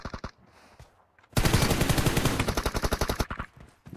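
Rapid automatic gunfire from a multiplayer team deathmatch shooter game, a loud burst of closely spaced shots lasting about two seconds, preceded and followed by a few scattered shots, with no talk.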